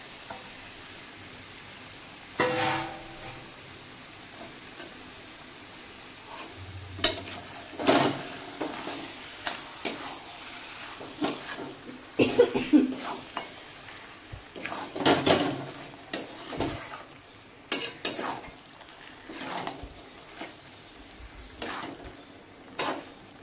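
Pieces of goat fat frying in a pan as a home-cooked thin goat curry is made, with a soft steady sizzle under repeated clinks and scrapes of a spoon against the pot.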